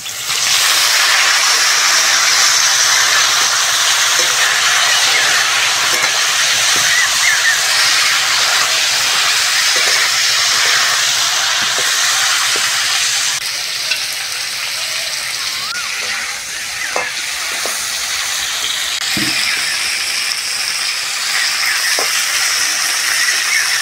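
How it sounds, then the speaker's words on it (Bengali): Cauliflower florets frying in hot oil for a thin hilsa fish curry with potatoes: a loud, steady, broadband hiss of sizzling that runs throughout, with scattered small pops and clicks. "ওই তেলের মধ্যে ফুলকপিটাও ভেজে নেব।"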